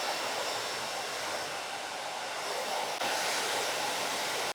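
A hair dryer with a diffuser attachment blows in a continuous, even, broadband whoosh, close and steady for several seconds before it stops abruptly.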